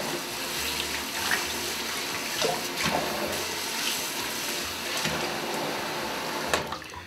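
Lukewarm water runs steadily from a tap over a vinyl record being rinsed, a continuous close hiss and splatter with small shifts as the record moves under the stream.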